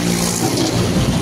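A tractor passes on a road with a loud, continuous engine rumble, close and steady throughout the short burst, no voices heard.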